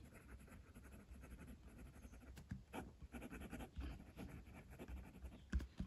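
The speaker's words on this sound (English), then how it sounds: "I'm going to start the writing sample today with the Moonmn" A Moonmn Majohn A2 fountain pen with a steel fine nib writing on paper makes faint, close scratching strokes in short bursts with small pauses between them.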